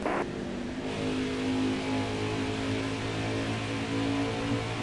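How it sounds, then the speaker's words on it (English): A car engine revving steadily close by, a sustained droning roar with a rising tone, loud throughout. "Go outside, start up the car, and slam on the brakes."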